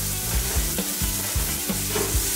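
Garlic sautéing in a pan for Filipino fish stew, a close, steady sizzle punctuated by rhythmic stirring scrapes about every half second.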